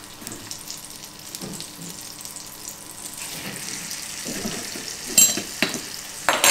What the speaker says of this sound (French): pendant que les pommes vont caraméliser